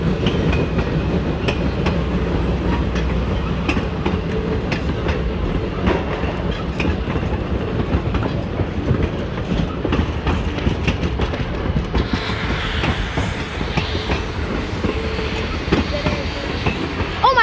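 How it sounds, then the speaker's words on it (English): Long freight train rolling past at a rail crossing in Stroudsburg, a steady loud rumble with clickety-clack wheel beats and faint squeals, continuous for the whole stretch with brief voices in the background. "Oh my God, this is a pretty long train."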